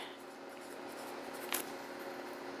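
An extra fine Jinhao 248 fountain pen inked in green makes a faint, steady scratch as it writes across paper, with one brief sharper stroke partway through.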